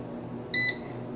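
An air fryer holding bacon gives a single short electronic beep as it is switched on and set, clear against a quiet room hum.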